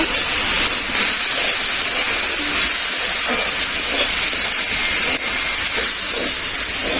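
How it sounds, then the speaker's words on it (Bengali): Soaked white mung, masoor and chana dal fry lightly in a pan, giving a loud, constant close hiss and sizzle with only a couple of momentary dips. "ডালগুলোকে অল্প করে একটু ভেজে নেব।"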